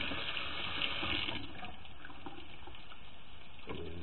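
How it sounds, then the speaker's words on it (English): A spatula is rinsed under a running kitchen tap, giving a steady, close hiss of flowing water with a slight change in tone as it is moved through the stream. "I'm washing my spatula again"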